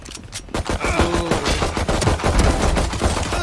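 Rapid gunfire in the shooter game Valorant, loud and close, with dense bursts of shots and sharp cracks running continuously after a brief quiet start, no talking.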